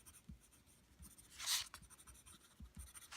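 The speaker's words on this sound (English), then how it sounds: "So I'm going to be writing my name on all 5 pieces." A pen writes a name on sheets of printmaking paper in a printing class, giving faint, soft scratchy strokes with a brief louder scribble in the middle and no voices.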